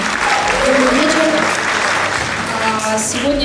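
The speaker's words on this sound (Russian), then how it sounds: "Давайте поприветствуем бурными аплодисментами." A concert audience breaks into loud, sustained applause as a singer is welcomed to the stage, a dense wash of clapping with a voice speaking over it.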